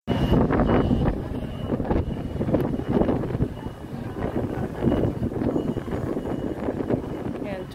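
Gusty wind at a train station buffets the microphone in loud, rumbling waves that never let up for the whole stretch.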